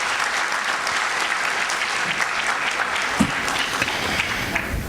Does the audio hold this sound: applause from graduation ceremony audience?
yes